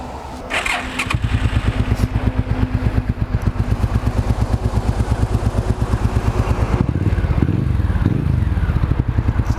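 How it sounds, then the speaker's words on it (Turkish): A 1998 Suzuki Marauder 800 twin-carburetor custom motorcycle engine cranks and catches, then settles into a loud, steady, chugging idle close by, with a brief throttle blip near the end. "Bir de şunun sesini duyalım."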